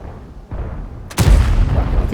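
A tank gun fires in World of Tanks, one sharp, loud boom cutting in midway after a low rumbling engine background, followed by a ringing tail.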